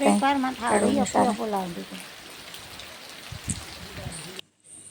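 Heavy monsoon rain falls on a village in a steady broadband hiss, with a voice talking over it for the first couple of seconds before the rain carries on alone.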